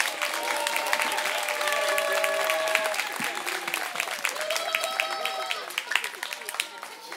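Festival crowd applauding a performer at the Guinguettes du monde 2022, steady clapping throughout with cheers and voices rising over it and some tonal music or whistles mixed in.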